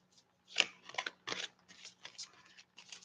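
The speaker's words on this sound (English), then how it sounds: "Look, I'm shuffling right now." Tarot-style reading cards are shuffled in a series of quick, crisp riffling bursts, close and fairly quiet, with brief pauses between them.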